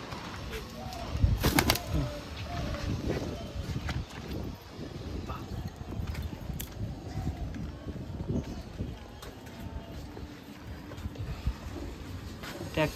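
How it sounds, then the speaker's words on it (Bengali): Domestic pigeons in a loft of Madrasi pigeons, with soft low cooing and occasional wing flaps over a steady background rumble, with a brief louder flutter early on. "দেখবো পায়রা।"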